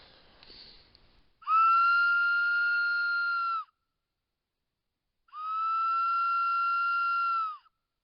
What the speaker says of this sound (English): Try my whistle.